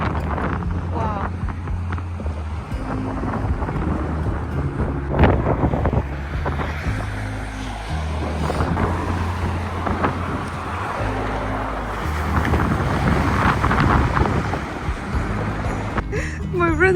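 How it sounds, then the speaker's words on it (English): Strong outdoor wind buffets the microphone in loud, continuous low rumbling gusts by dirty water, with a voice talking underneath and the gusts swelling and easing throughout. "I can't even hear my own voice because of the wind"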